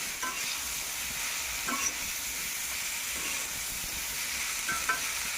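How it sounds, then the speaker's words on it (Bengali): Hog plums for pickle frying in a pan, a steady hiss and sizzle throughout with a few soft clicks of a spoon stirring, close and even, no voices. "আমরাগুলা ভালোভাবে নাড়াচাড়া দিয়ে নিতেছি"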